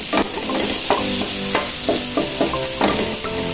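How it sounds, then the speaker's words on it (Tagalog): Garlic sautés in oil for squid adobo, a bright continuous sizzle cut by regular scraping strokes of a spatula stirring the pan roughly every half second, close and loud with no speech. "Maglalagay na tayo ng bawang. Atin lang papupulan yung bawang"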